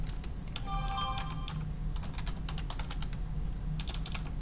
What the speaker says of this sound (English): I'm typing out the general function here